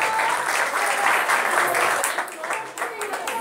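Audience applause at a Ramadan Quran recitation contest, a dense burst of clapping from a crowd that holds steady then thins slightly toward the end, with a voice speaking over it.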